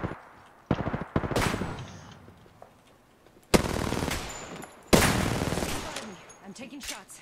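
Gunfire in the video game Apex Legends, with loud close bursts of rapid automatic shots and single heavy reports spread across the stretch, with short gaps between volleys and a voice speaking briefly.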